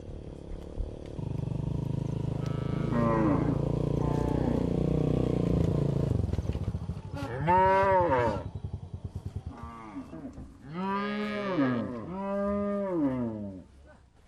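Cattle from a 2,000-head herd grazing on open grassland pasture low and moo in several long, rising-and-falling calls, loud and close, after a stretch of steady background noise.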